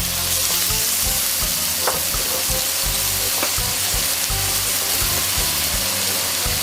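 Tofu frying in a pan gives a loud, continuous hissing sizzle that holds steady throughout, with a couple of faint clinks and no talking.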